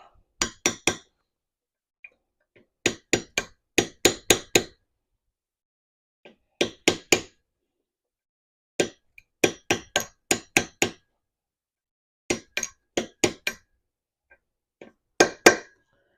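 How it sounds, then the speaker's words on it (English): A transmission seal on a Mazda Miata NB manual gearbox is tapped into place with a socket extension, giving quick clusters of sharp metallic taps in bursts of two to six, separated by short pauses. "So what I'm gonna do is I'm gonna grab an extension and then just try to tap it in."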